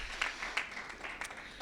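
Faint applause from a crowd at a school board meeting, a steady patter of clapping heard at a distance.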